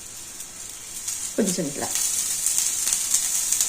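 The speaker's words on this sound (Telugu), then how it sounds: "ఈ హోల్స్లలో కొంచెం ఆయిల్ వేయండి" Oil sizzling in the holes of a hot pan while a cabbage dish cooks, a bright hiss that swells after a brief spoken remark and then holds steady and close.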